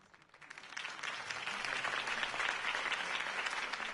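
Steady crowd applause in the video game Batman: The Telltale Series swells after a brief quiet start and holds loud and dense, many hands clapping at once with no voices on top.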